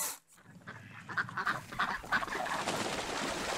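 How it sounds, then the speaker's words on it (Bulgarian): Geese take flight from a lake in the Zimbabwe wilderness, a flock of about ten giving a burst of overlapping honks and calls over rushing wing noise, moderately close and fading into steady noise. "В това езеро имаше 10 гъски, които се разлетяха"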